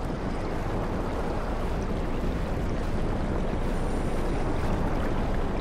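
A constant, full-bodied rush of wind roars through an underwater-themed horror game. It holds loud and steady without letup, and no one speaks over it.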